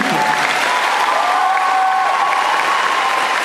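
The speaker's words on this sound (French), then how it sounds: "Je vous demande un maximum d'applaudissements parce que sachez que c'est quand même son premier concours." Sustained audience applause with a few cheers for a Skull Kid cosplay contestant at a convention contest, loud and even throughout the few seconds, a faint voice briefly audible beneath.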